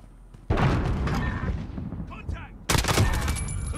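An ODIN assault rifle fires in bursts in a first-person shooter video game, loud close rapid shots in two main volleys with a brief lull between, with no speech over it.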